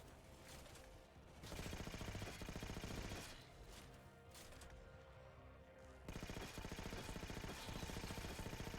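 Sustained automatic gunfire in Halo 4 Spartan Ops, rapid continuous bursts with brief pauses between volleys, loud and dense throughout.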